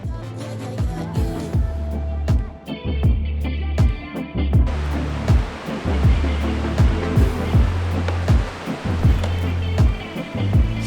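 A rushing river roars steadily beneath a new, swaying suspension bridge hung from big cables in a cedar forest, with regular close thuds of footsteps on the bridge deck over the water noise.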